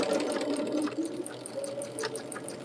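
Domestic sewing machine stitching quilt block pieces for a log-cabin-style block, a steady close whirring hum running throughout with light mechanical ticking, no talking.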